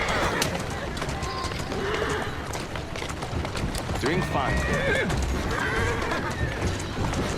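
Horse hooves clip-clopping beside a carriage in Assassin's Creed Syndicate, a steady rhythmic clatter mixed with street ambience and a whinny, while a voice speaks over it.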